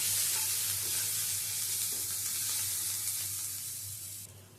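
Grated ginger frying in hot oil in a pan, a steady close hiss and sizzle with faint stirring scrapes, continuous and fairly soft, with a brief knock at the very end and no voices.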